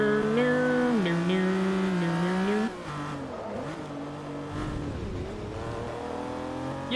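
A Lamborghini engine in the racing game Forza Motorsport 3 drones and revs steadily, its pitch rising and falling through gear shifts, with tire squeal layered in and the roar continuing for several seconds.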